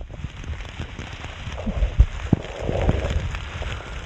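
Heavy rain pours steadily onto surfaces at an outdoor press conference, a dense continuous patter with scattered louder drops spattering close by.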